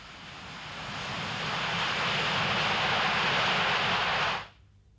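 A jet plane passes overhead as a broad roar that swells steadily and holds loud, then cuts off sharply near the end.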